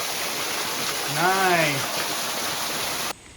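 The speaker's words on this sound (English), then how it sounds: "It's a bigger waterfall." A bigger waterfall on a Maryland stream rushes in a constant broad wash of water noise, close and loud, while a voice speaks a short word over it.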